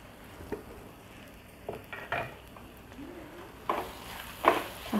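Squid masala with turmeric and homemade spice mix sizzling softly in oil in a pan, with intermittent scraping clatter as a spoon stirs and mixes it, close and alone.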